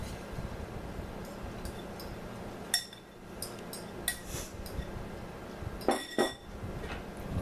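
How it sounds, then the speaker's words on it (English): Crumbs tumble out into a 9 by 13 glass baking dish in a quiet kitchen, with scattered clinks and bright taps against the glass and a couple of louder knocks near the end. "Just going to pour my crumbs in here."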